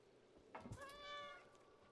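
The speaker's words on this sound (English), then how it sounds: "What does the meow button actually do?" Cat in the game Stray giving a single drawn-out meow from the meow button, fairly clear against a quiet background and with nobody speaking.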